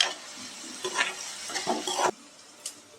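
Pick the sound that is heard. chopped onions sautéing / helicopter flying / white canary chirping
chopped onions sautéing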